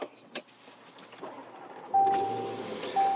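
The panoramic sunroof shade of a 2020 Range Rover Velar SV Autobiography Dynamic Edition opens with a thin electric motor whine that starts partway through, preceded by faint clicks and small cabin noises.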